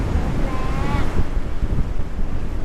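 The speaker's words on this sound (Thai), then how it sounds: "strong wind." Strong wind blows at the seaside in Rayong, Thailand, a constant loud roar of gusts buffeting the microphone, mixed with the wash of surf and no clear talk.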